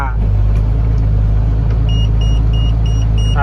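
A six-wheel truck climbing a gentle hill on a rough, potholed road, its engine a loud steady low rumble, with someone talking over it and a repeated beeping chime in the latter half.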